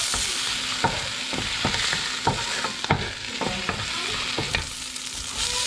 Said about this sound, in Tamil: அதுவும் வந்து ஆயிலில் போட்டு ஃப்ரை பண்ணிக்கிறேன்.